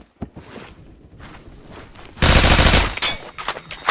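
A Honey Badger rifle fires in a video game, a sudden loud burst of rapid automatic shots after a few quieter clicks and steps, trailing off in scattered reports.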